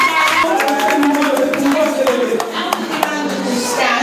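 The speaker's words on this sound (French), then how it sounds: "On acclame encore une fois pour la gloire de Dieu" Church congregation at a consecration service applauding, dense lively clapping from many hands, loud and close, with voices mixed in throughout.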